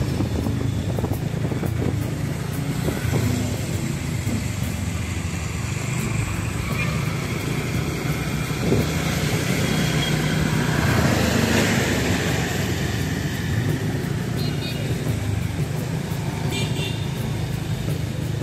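A motor vehicle heads toward the flooded Panchganga river in Kolhapur, its engine droning steadily under wind noise and passing traffic, with voices talking over it.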